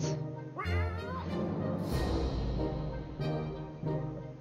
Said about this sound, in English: Pet the cat. Everybody needs a pet cat.